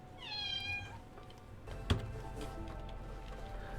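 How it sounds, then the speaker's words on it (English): A house cat yells indoors with one drawn-out, rising and falling meow near the start, fairly faint and alone, followed by a single soft thump and quiet room tone. "That's one of my cats yelling."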